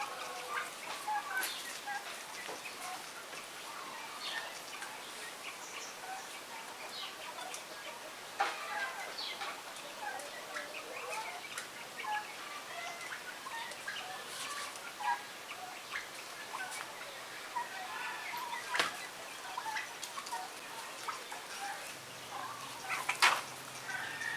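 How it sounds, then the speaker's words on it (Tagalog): A turkey sick with coryza gobbles and clucks at moderate distance amid outdoor farmyard background noise, with scattered clicks and rustles. "ito po yung pabo na nagkakuraysa"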